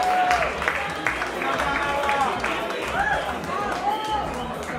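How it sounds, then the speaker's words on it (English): An audience at Joe's Pub in New York claps after a Gnawa music set at Habibi Festival. The applause runs steadily under a person speaking throughout. "can we give another round of applause for that incredible"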